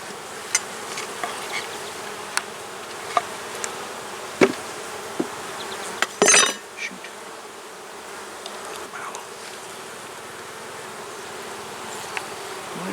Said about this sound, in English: decent number of bees in here